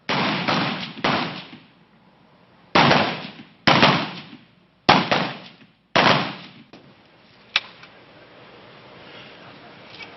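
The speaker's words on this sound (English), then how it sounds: "3 accurate match grade shots" Rifle gunshots fired during anti-terrorism officer marksmanship training, about six sharp loud reports with irregular spacing and short decaying echoes, followed by a fainter crack.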